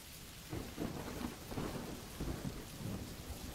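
Steady rainfall with repeated rolling thunder rumbles swelling and fading throughout, continuous and moderately loud with no voices.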